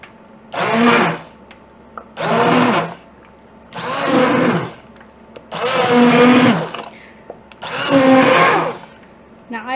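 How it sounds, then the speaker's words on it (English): An immersion blender whirs through potato leek soup in five short bursts of about a second each, loud and close, with brief pauses between pulses. "All I need now is to use the immersion blender so we can"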